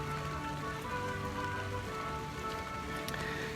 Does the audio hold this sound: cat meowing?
no